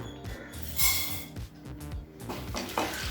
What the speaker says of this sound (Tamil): முதல்ல 1/4 கப் கடலைப்பருப்பு சேர்த்துக்கலாம்